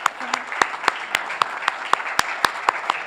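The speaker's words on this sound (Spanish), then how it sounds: "aplaudamos." A seminar audience gives a short round of clapping: distinct, fairly sparse hand claps at a steady, quick pace, close and crisp over a quiet room, with no talk.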